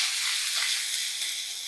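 Crushed garlic and a pinch of asafoetida sautéing in hot oil in a kadhai, giving a steady close bright sizzle that fades slightly and cuts off near the end.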